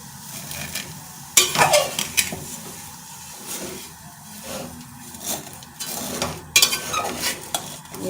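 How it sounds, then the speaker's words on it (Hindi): Vermicelli for seviyan kheer is roasted in a pan while being stirred, with a soft dry sizzle and repeated scraping clinks of a spoon against the metal pan up close. "इसे थोड़ा सा हमने भूनना है।"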